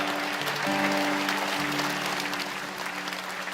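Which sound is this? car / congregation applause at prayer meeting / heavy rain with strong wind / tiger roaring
congregation applause at prayer meeting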